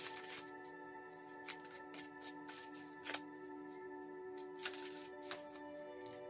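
Tarot cards being shuffled and handled, a steady soft riffling with a few sharper card snaps spaced through it, quiet and close, with a faint tonal hum underneath.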